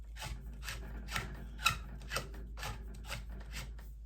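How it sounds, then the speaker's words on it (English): Parts of a heavy-duty 17-tine steel garden rake being screwed together, faint scraping and rasping turns repeating in short bursts, close and quiet with no talk. "then we're going to screw it in"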